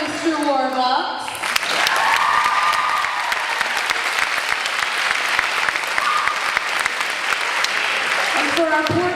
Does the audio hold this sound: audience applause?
yes